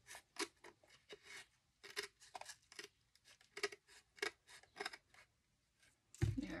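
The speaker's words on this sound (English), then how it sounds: "That one's a little too skinny for me to tear, so I'll just cut along it." Scissors cut along a narrow strip of decorative paper in short, crisp snips, with an irregular rhythm and quiet pauses between them, close and fairly soft, with no talking.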